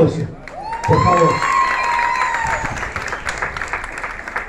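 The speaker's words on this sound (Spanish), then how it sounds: "Si me regala un aplauso, por favor." Applause from guests at a birthday party for someone, a loud burst of clapping with some cheering and voices mixed in, rising quickly and continuing steadily.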